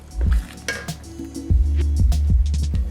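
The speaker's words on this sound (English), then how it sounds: "I'm gonna put the chicken in, okay?" Cooked chicken tumbling into pasta sauce in a pan for chicken riggies, giving a few wet squishing thuds and a clink of utensils against the pan, loud and close with no talk.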